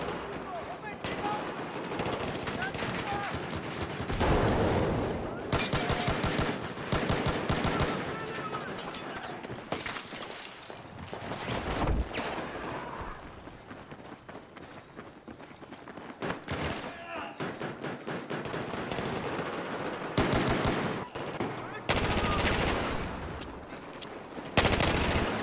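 Rapid automatic gunfire in the Battlefield 4 Gunmaster mode, with dense sustained bursts and sharp single shots stacked loudly across the whole stretch and brief lulls between volleys, with a voice talking over the shooting at times.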